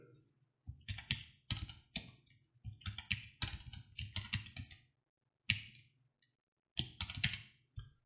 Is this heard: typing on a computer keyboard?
yes